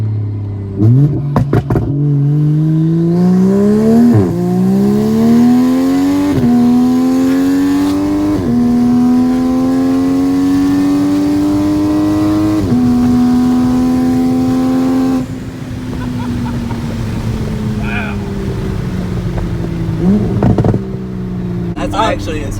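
A tuned 2020 Toyota Supra with a big turbo pulls hard through its gears, the engine note climbing in pitch and dropping at each shift, loud and close from inside the cabin, with brief voices in the background.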